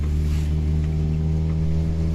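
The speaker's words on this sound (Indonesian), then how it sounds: "Bisa dengar sendiri kan suara raungan knalpot dari belakang masih terdengar." A 1988 Toyota Starlet's exhaust gives a steady, close, low droning rumble that holds an even level throughout with no revving.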